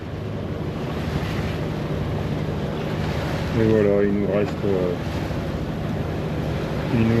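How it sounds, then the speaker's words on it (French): A boat motoring at about 5 knots on the open sea near Sanary and Les Embiez gives a steady rush of engine, wind and water throughout, with a person talking briefly in the middle. "Donc là on est au moteur, on est en moyenne à 5 nœuds."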